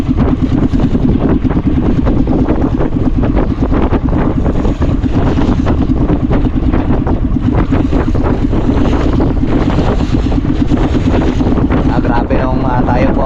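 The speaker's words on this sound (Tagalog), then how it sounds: "Medyo lumalakas na rin po yung hangin." Strong wind buffets a small boat at sea as the waves build, a loud continuous roar of wind and rushing water throughout.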